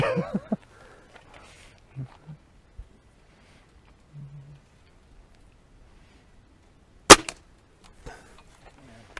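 A Gamo Swarm Magnum Gen 3i break-barrel air rifle fires one sharp, loud crack on an outdoor shooting range, standing out against near silence broken only by a few faint handling thumps and clicks.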